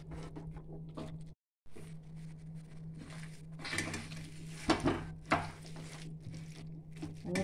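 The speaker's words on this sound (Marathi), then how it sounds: "हे सगळं आपल्याला मॅशरने मॅश करायचं आहे." A masher works boiled potato filling for panipuri, giving soft, squishy pressing and patting sounds with a few sharper knocks against the bowl, close and fairly quiet over a faint background hum.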